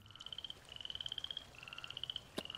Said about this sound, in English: That's a frog.